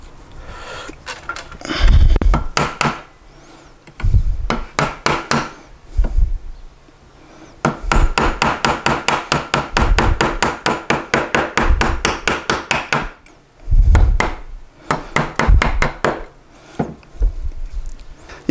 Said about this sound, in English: And now just take a chisel, clean up these edges a little bit.